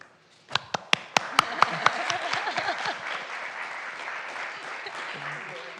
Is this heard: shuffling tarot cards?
no